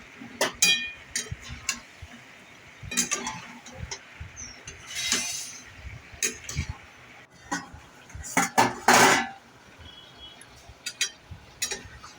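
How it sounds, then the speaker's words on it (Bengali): Jackfruit and prawn curry being sautéed in a pot, with repeated metallic scrapes and clinks of a spoon against the pot in irregular bursts over a low background, fairly close and alone. "মাঝে মাঝে এরকমভাবে কষিয়ে নেবেন"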